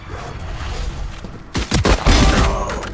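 Gunfire in a Valorant tournament match, several sharp shots in quick bursts following a quieter stretch of game ambience, loud and close.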